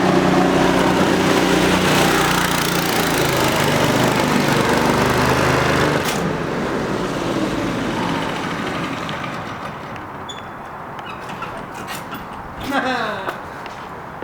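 A homemade go-kart engine runs loud and steady for about six seconds during a speed test with its governor removed, then drops lower and rougher as the kart slows, with voices heard near the end.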